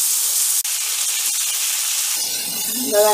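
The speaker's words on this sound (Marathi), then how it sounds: "छान परतून घ्यायच्या तेलाच्या बिया" Jackfruit seeds fry in oil in a pan, giving a steady close hiss and sizzle that runs throughout, with a brief voice-like tone rising near the end.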